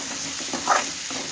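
Gunta ponganalu frying in a pan until golden, heard as a soft, steady close sizzle with one brief louder crackle or stir in the middle.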